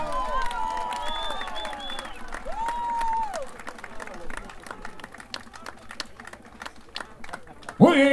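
Applause from guests at a paper wedding anniversary celebration with marinera norteña dancing at Jardines de Sabandía, steady clapping running under music, whistle-like tones and a speaking voice.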